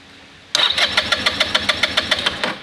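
A Buddy 125 scooter engine cranks and catches, then runs with a close, even puttering beat of rapid pulses that fades slightly as it settles.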